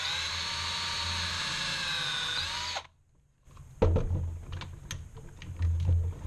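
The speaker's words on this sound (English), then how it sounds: "Drill a pilot hole." A power drill whines steadily while boring a pilot hole for a bitcoin miner rack build, then cuts out after a short silence, followed by clicks and light handling knocks.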